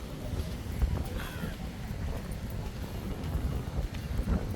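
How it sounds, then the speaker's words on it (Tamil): Rough sea and gusting wind on the shore at Mullivaikkal, where a ship has washed ashore, make a steady, low roaring rumble that carries on without a break, with faint voices somewhere in the background. "சரியான அலையாயம் இருக்குது கடலை பார்க்க"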